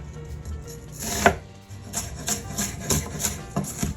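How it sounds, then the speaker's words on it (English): Rhythmic knife chopping on a cutting board, a quick series of sharp taps that speeds up toward the end, close and fairly loud. "Chop them up just like so,"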